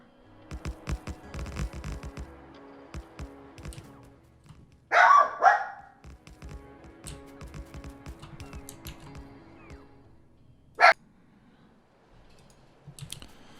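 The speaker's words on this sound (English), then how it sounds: "My wife just came home, so Cooper had to bark his head off, as he usually does" A dog barks in a few sharp bursts at someone arriving home, loud and near against a quiet room with scattered keyboard typing and mouse clicks.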